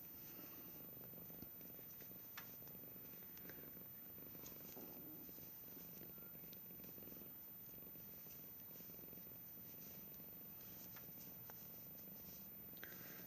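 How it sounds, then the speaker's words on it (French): A cat named Aquarelle purring, a steady, continuous low rumble close to the microphone, faint but unbroken throughout with no talk over it. "si vous entendez un gros ronron, hein, c'est Aquarelle qui ronronne."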